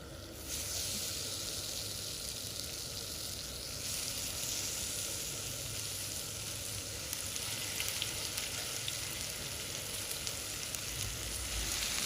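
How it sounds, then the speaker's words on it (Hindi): Chicken Lebanese kababs frying in oil in a pan, a steady, continuous sizzle and hiss at even moderate loudness with faint crackling, no voices over it. "अब एक एक करके हम इसके अंदर हमारे लेबनीज कबाब रख देंगे फ्राई करने के लिए"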